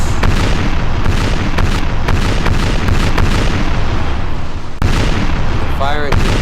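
Naval cannon fire rolls on in a Napoleon Total War sea battle, dense and loud with repeated booms layered over a continuous roar, and someone talks over the barrage.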